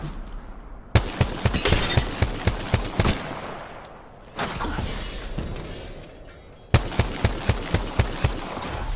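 Automatic gunfire rings out in a match of the video game Apex Legends, loud close bursts of rapid evenly spaced shots broken by a short lull of softer noise, then another burst.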